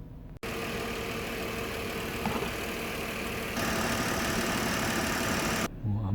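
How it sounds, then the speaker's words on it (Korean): A car engine restarts and settles into a steady, close idle with a constant low hum and a slight rise in level partway through, during cooling hose and coolant tank cleaning. "일단 끼워만 넣고 예, 다시 시동 걸고"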